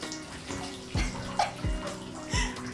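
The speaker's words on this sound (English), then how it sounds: "Are you wetting your hair" Water running from a tap while someone wets their hair, a steady close splash broken by recurring thumps and gushes.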